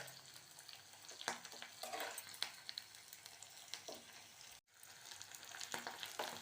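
Ginger, black pepper and cumin sizzle in hot ghee as a tempering for millet ven pongal, a soft, steady crackle broken by a few sharper pops and stirring clicks.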